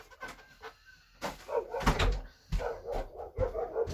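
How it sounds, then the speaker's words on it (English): Dogs bark in a domestic setting near a driveway, several short, sharp barks at moderate distance, intermittent with brief pauses and some quieter whimpering and knocking in between. "get the dogs out of the driveway"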